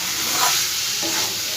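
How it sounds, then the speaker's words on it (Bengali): Chicken samosa filling stirred in a pan just after the lid comes off, a short burst of sizzling and scraping at steady loudness with no voices. "ঢাকনাটা আরও একবার আমি খুলবো, ভালো করে একটু নাড়াচাড়া করব।"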